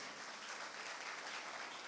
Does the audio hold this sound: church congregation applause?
yes